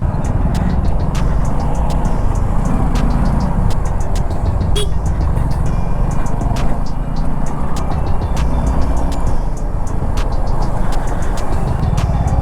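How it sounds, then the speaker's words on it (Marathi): Heavy highway traffic in a jam on the road from Kankavli to Mumbai, heard from a Suzuki V-Strom 250 motorcycle: a dense, steady roar of engines and rumbling vehicles with scattered horn-like blips throughout. "इकडे तर पूर्ण जामच आहे"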